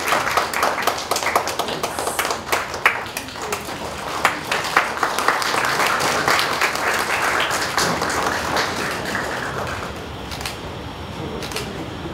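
Audience claps through a felicitation ceremony at a Women's Day celebration, with crisp, irregular hand claps that swell into a dense, sustained round of applause and then fade slightly over about twelve seconds.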